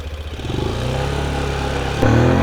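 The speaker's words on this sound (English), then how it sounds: "First gear, come on, let's go." Daytona DYMOTO 125 motorcycle (Dayang DY125) pulling away in first gear, its small single engine buzzing loud and close with rising pitch, then jumping up in volume as the throttle opens near the end.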